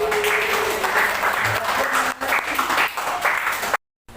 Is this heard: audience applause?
yes